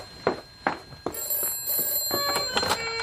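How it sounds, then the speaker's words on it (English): An old-style telephone bell rings in repeated bursts, short rhythmic rings close by and fairly loud, with a steady tone continuing between them. "are we going to answer the phone?"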